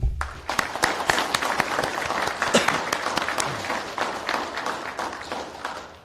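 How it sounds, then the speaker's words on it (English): Scattered, sharp hand claps from an audience at a law enforcement graduation ceremony, individual claps distinct and irregular rather than a dense roar, tapering off toward the end. "Please give them a round of applause in showing of our appreciation and support for their leadership."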